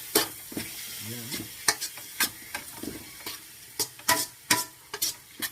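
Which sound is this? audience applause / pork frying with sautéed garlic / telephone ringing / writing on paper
pork frying with sautéed garlic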